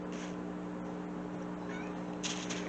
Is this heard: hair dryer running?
no